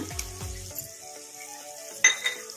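Garlic paste frying with softened tomatoes in a pan, a soft sizzle with a couple of stirring scrapes and a sharp clink of a spoon near the end, close by with no speech.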